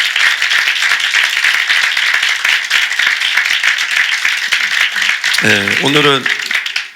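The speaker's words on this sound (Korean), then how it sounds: "먼저 우리 하나님께 박수로 영광 돌리겠습니다" A church congregation claps in praise at an Easter Sunday morning worship service, a dense sustained patter filling the room, with a voice speaking briefly near the end.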